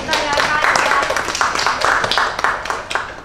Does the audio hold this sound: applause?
yes